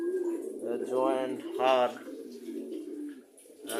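Pigeons coo in a low, repeated rumble behind someone talking, the soft calls running through most of the stretch at moderate distance.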